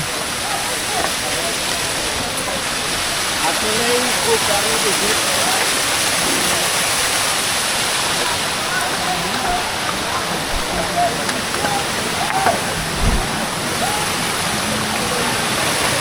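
A waterfall formed after sudden rain on Chandranath hill near Sitakunda rushes in a steady, full roar of falling water, close and continuous throughout.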